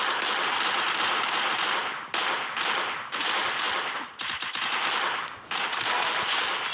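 Rapid automatic gunfire from the video game Free Fire rattles on loud and continuous, broken by a few brief gaps between bursts.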